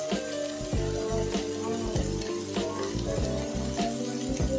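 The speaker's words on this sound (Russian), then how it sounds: "Жарим ароматные котлетки на среднем огне до полной прожарки." Burger patty frying over medium heat in a hot pan, a steady close sizzle with soft crackles and occasional clinks of a spoon.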